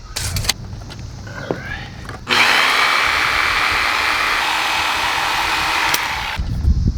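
Power tool cutting PVC pipe for a dual flag mount on a 2017 Chevy Silverado, a loud steady high whine lasting about four seconds after some handling clatter, then stopping.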